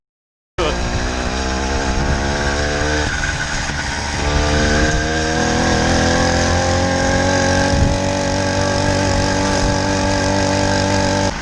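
A motor engine fitted to a bicycle starts up abruptly and runs loud and close, with a buzzing, rising and falling rev and a strong droning pitch throughout, heard alone without talk.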